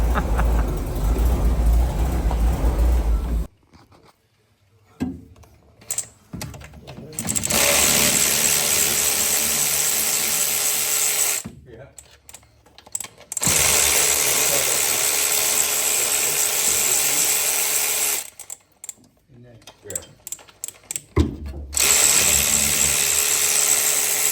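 An old ute engine, started after sitting unused for 15 years and left running in gear, roars loudly with broad steady noise, cutting out in several abrupt gaps before surging back.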